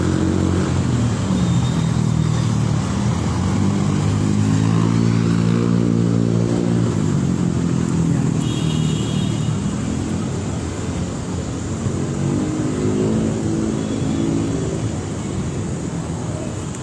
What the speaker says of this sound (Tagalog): Yan ang traffic.